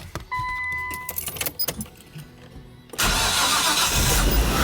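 Keys jangle in the ignition of a Nissan R34 Skyline fitted with a jumper harness, then the engine cranks, fires and settles into a loud, steady idle close by.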